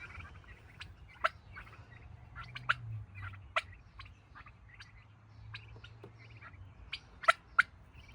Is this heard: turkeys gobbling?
yes